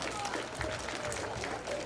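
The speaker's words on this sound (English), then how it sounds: "would you give your parents, guardians, siblings, etc. a round of applause?" Audience applause at a school sixth-grade winter concert, a steady wash of many hands clapping throughout, moderately distant and even in level.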